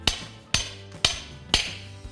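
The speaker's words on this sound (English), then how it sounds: "So we take our hammer and and you'll hear the note change as the setting is actually fixed." A hammer strikes a drop-in anchor set into concrete four times at an even, steady pace, each sharp metallic blow ringing briefly, with the note shifting as the anchor's wedge becomes fully set.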